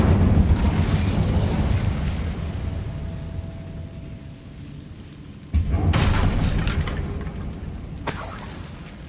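Fire spell bursts in Hogwarts Legacy inside a closed tomb, a loud whooshing roar sustained over rumbling game ambience, with a fresh blast partway through and a sharp crack near the end.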